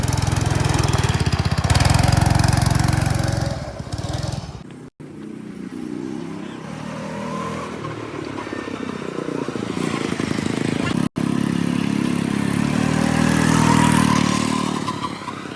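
A fast vehicle's engine runs steadily throughout, droning loud and close with a rough, buzzing tone and a brief drop-out partway through.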